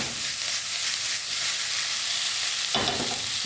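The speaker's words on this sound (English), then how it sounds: "Mix all the vegetables and onions together." Vegetables and onions are stirred in a greasy pan, sizzling steadily with a clear scrape and jump in the frying noise near the end, with no voices.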